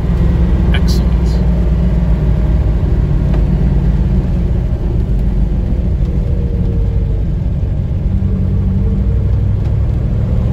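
A 1969 Camaro 427 driving down the road, its engine and road noise forming a steady, loud rumble throughout with no squeaks, heard from inside the car.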